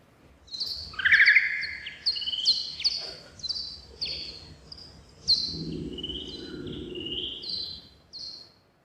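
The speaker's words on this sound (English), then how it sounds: "That was bat ultrasound, recorded above your hearing range, but slowed down so you could hear." Slowed-down bat ultrasound from a mating-season advertisement call, heard as a rapid series of descending chirps and warbled tweets, close and fairly loud, with a low rumble underneath and no talking.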